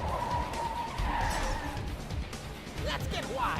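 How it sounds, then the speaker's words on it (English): Cars skidding with squealing tires during an animated car fight between the Joker and Sweet Tooth, several screeches and engine noise layered under excited voices talking over the action. "we're starting off with a car fight."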